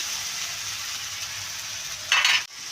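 Ground spice paste with cumin and turmeric fries in a pan for a pabda fish curry, a steady close sizzle, then a brief louder scrape or stir near the end.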